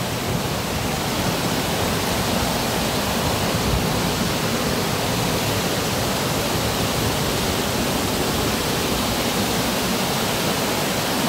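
Tumalog Falls pours and splashes in a loud, unbroken broadband rush of water, steady and close throughout with no voices breaking through.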